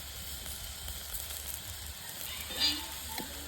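Spices fry in a pan at an outdoor village picnic cook-up, a faint, steady sizzle with a few soft clinks and stirring scrapes near the end.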